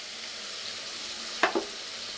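Chicken gravy fries with a steady broad sizzle, then two quick wet clunks as tomato paste is dropped into the pan, the hiss continuing underneath.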